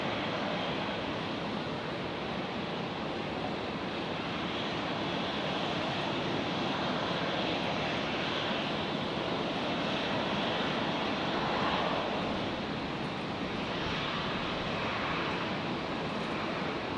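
Airplane taking off at night from Brisbane Airport runway 01 left, a loud continuous broadband engine roar and rumble that holds steady throughout with no voices.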